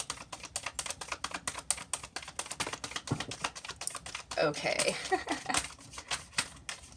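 A tarot deck shuffled by hand gives quick crackling riffles and soft tapping bursts at close range, with a brief spoken word over them.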